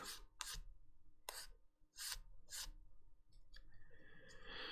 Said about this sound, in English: I'm just sanding and denubbing